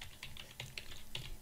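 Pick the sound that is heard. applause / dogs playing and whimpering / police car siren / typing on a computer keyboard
typing on a computer keyboard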